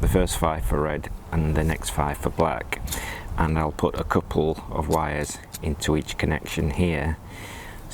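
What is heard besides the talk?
No everyday noise stands out behind the speech.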